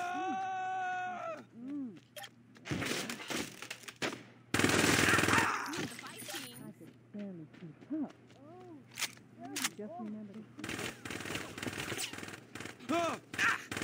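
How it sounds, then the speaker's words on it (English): Bursts of gunfire in the Saints Row video game, several rapid volleys and shots scattered through a noisy game mix, with voices talking over the action. "who's shooting at me?"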